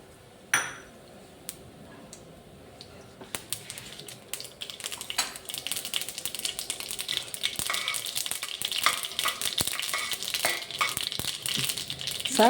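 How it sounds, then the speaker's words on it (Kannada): Mustard seeds crackle and sizzle as they fry in hot oil in a steel kadai, a dense steady popping that grows louder after a sharp start, with occasional clinks of a spoon against the pan. "ಈಗ ಸಾಸಿವೆ ಹಾಕಿ"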